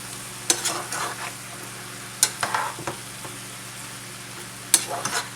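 Shrimp and butter sizzle in a pan while a utensil stirs them in three bursts of scraping and clinking, each followed by a soft, steady frying hiss.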